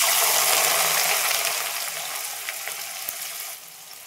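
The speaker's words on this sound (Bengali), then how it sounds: "এই বাকি পেঁয়াজটাও ভেজে নিচ্ছি" Onions fry in hot oil for mutton biryani, a dense, loud, steady sizzling hiss heard close up with no talk, easing slightly and then dropping lower near the end.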